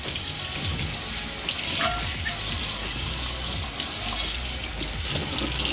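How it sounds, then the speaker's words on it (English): Warm tap water runs steadily, rinsing a GraniteStone nonstick frying pan in a sink, with a continuous close splashing and trickling stream that shifts slightly as the pan moves under the flow. "just rinse it with warm water"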